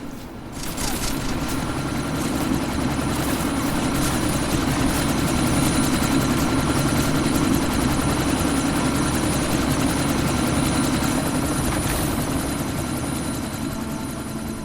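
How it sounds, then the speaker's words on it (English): A helicopter in a first-person combat video game roars loudly and steadily as it powers up to take off, a constant heavy rotor and engine drone filling the whole stretch. "That chopper's about to take off."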